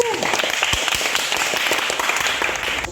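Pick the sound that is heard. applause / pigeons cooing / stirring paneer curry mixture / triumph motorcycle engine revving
applause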